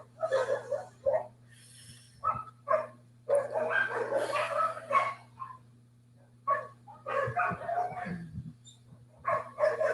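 Neighborhood dogs barking outdoors in repeated irregular bursts, some close together, with a steady low hum running underneath throughout.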